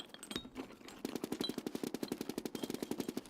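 Rapid machine-gun fire from a video game rattles in a long even burst. It is distant and fairly quiet and follows a few scattered shots.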